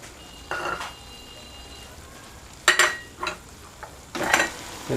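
Fish curry simmers in a pan on a stove, a low background bubble broken by a few sharp scrapes and clinks of a spoon stirring against the pan, close by with no talk.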